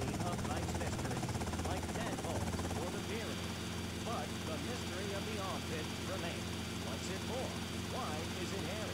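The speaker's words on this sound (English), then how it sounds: "I'm gonna take this helicopter." Helicopter rotor and engine drone in Grand Theft Auto Vice City, steady and loud throughout beneath game noise and someone talking.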